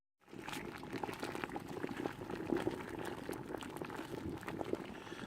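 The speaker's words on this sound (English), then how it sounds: "So we're 10 minutes left now in the boil." Wort rolls at a steady boil in a Klarstein brewing kettle during a Belgian blonde brew day with hops added, a dense continuous bubbling and churning that stays even and fairly close throughout, with no talking.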